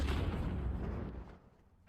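A missile strike explosion in news footage: a single heavy, low boom already rolling at the start, decaying over under two seconds into quiet.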